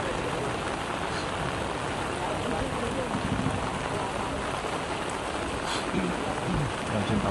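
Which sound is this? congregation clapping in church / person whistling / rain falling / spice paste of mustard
rain falling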